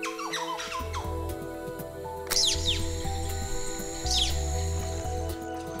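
Wild birds calling on an uninhabited island in Milne Bay Province, sharp chirps and sweeping whistles at mid distance over a steady insect-like drone and layered background calls.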